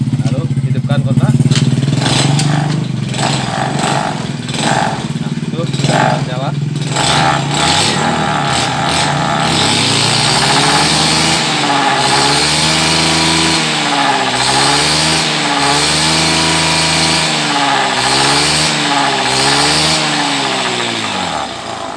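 A Honda Beat carburetor scooter's small engine runs close up during carburetor air tuning, first with a rough clattering idle, then with repeated rising and falling revs that swell and ease in waves.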